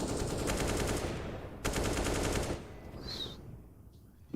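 Rapid automatic gunfire shooting through walls in the video game Counter-Strike, two loud sustained bursts separated by a brief gap, followed by quieter lingering game sounds.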